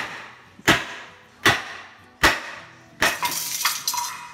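Hammer striking epoxy-bonded pieces in a hammer test: three sharp, evenly spaced knocks, followed by a harder blow with rattling, clattering aftersound, close and loud.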